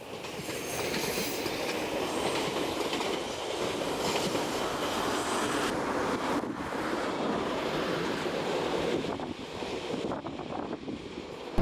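A Tobu train rolls past beside the Arakawa River in Tokyo, a sustained rushing rumble of wheels and carriages that holds steady at moderate distance before tapering off near the end, with wind noise mixed in.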